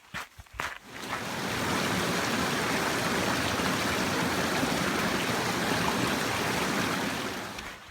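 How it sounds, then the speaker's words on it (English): Steady, loud rushing of the Pemigewasset River in the White Mountains, heard close and continuous after a few brief handling bumps at the start. "I just crossed the Pemigewasset River."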